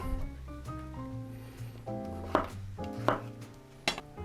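A knife cuts trumpet mushrooms into strips on a board, with three or four crisp chopping knocks coming late in the clip. Kitchen clatter and a low musical bed play underneath.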